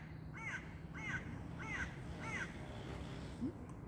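A raven calls from the top of a poplar tree on a windy day, four harsh croaking caws in an even rhythm, moderately distant over a soft background hiss.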